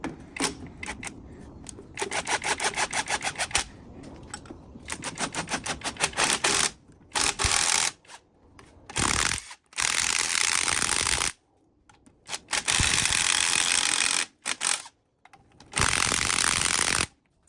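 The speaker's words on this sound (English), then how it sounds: "And now we're gonna do spring compression." Rapid mechanical ratcheting from a strut spring compressor tightening the coil spring on a 2009 Toyota Corolla, coming in close, loud bursts of fast clicks separated by short pauses, with no talking.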